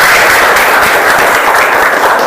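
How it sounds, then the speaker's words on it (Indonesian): Students in a classroom break into enthusiastic applause, a loud, dense and steady wash of many hands clapping close by, with no voices standing out. "Oke, tepuk tangan yang meriah lagi."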